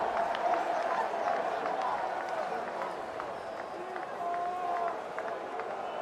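Crowd in a US Open tennis stadium chanting in unison, a broad rumbling mass of voices filling the background, steady and loud, with a commentator talking over it.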